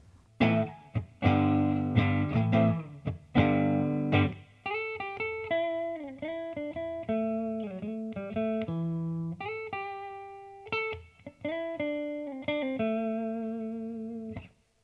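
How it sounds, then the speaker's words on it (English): A Fender Red Dog electric guitar on its middle humbucking pickup alone, played as a run of clean, sustained single notes and short chords with light effects, ringing clearly with no talk. "So that's just the middle humbucking pickup."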